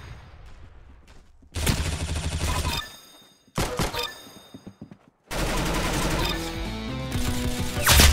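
Gunfire in the Arsenal shooter video game: loud, sustained bursts of rapid automatic fire that start and stop several times, with brief pauses and thuds between volleys.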